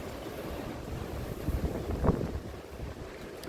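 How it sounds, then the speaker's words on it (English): Strong wind on a windy day in Kentucky roars steadily and loudly against the microphone, with rumbling buffets building and a sharp gust peaking midway before easing back. "So, just look at this wind, guys. I mean, it's getting a little scary."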